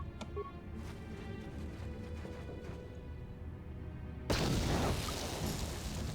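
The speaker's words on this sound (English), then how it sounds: "Let's give him a frag grenade." A frag grenade goes off in the video game Knights of the Old Republic: after a quiet stretch of faint game ambience, a sudden loud burst erupts and rumbles on to the end.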